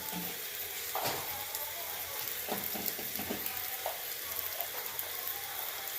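Panch phoron spices sizzle and crackle in hot oil for bhuna khichuri, a steady close frying hiss with scattered pops and a few stirring scrapes, no talk.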